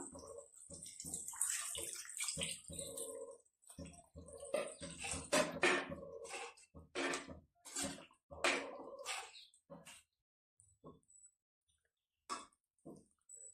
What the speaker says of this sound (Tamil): இந்த டைம்ல கரைச்சி வச்சிருக்கிற புளிய சேர்த்துக்கலாம்.